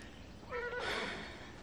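A horse gives a short, faint whinny, a thin rising call lasting well under a second against quiet room tone.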